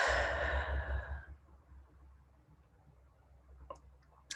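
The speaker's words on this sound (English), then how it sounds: "Taking deep inhales and exhales." A long, breathy exhale dominates the first second, trailing off into a quiet hush with faint clicks near the end; the slow, deep breathing accompanies a relaxing skincare routine.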